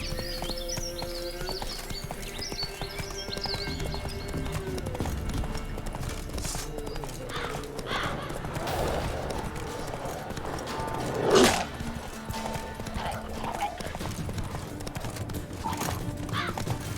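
Horse hooves clip-clopping at speed in The Witcher 3, a steady galloping rhythm under game ambience and music, with a brief louder thud near the middle.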